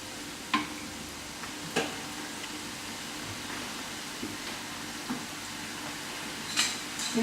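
Cannoli pastry shells slid gently into hot oil fry with a steady low sizzle and bubbling, broken by a few soft clicks and taps, with no voices.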